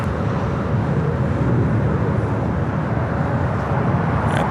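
Airliner after landing on runway 25 at LAX, taxiing toward the Tom Bradley gates, heard as a loud, steady broadband jet engine roar that persists without a break.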